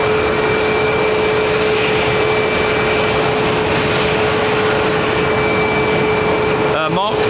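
A jet airliner at London Heathrow Airport produces a steady, loud engine roar with a constant whine held throughout, close and unbroken for several seconds.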